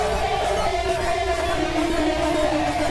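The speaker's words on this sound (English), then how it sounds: "So without argent compressor, it sounds like this" A corrupt lead synthesizer preset without the Argent compressor plays steady, sustained buzzing tones at a moderate level, holding evenly for three seconds with no voices.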